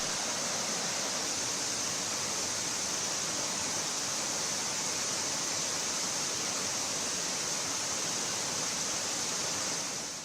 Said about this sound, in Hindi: तमसा नदी का जलस्तर बढ़ने से मंदिर के सीढ़ियों पर पानी के प्रवाह का शोर डरा रहा है।